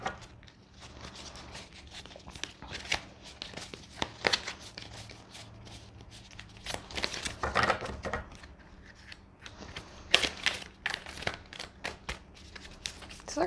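A deck of slippery, well-made tarot cards being shuffled by hand, giving irregular bursts of crisp riffling and sliding card noise, close up, with no talking.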